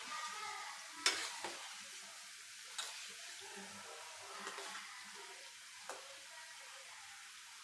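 Nimki dough pieces frying in a pan filled with hot oil over a medium flame, a soft, quiet bubbling sizzle broken by a few sharp utensil clicks.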